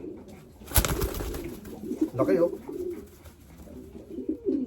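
Racing pigeons coo softly in short bursts near a loft, with a sharp clatter early on and brief speech.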